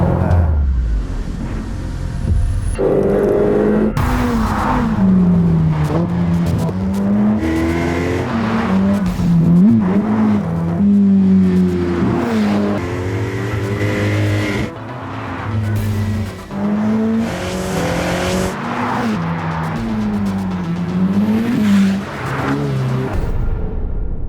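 A Ferrari F8 Tributo engine roars continuously at high revs while driving near Maranello, pitch climbing and dropping through gear changes, loud and close throughout.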